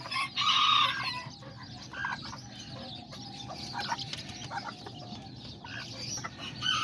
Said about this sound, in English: that's my little white silky